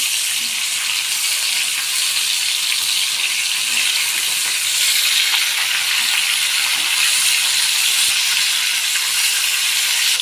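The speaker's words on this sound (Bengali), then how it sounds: "আর এদিকে মাছ ভাজা হচ্ছে" Fish frying in oil makes a continuous, even sizzle and hiss, close and steady for the whole stretch, with faint stirring and no voices.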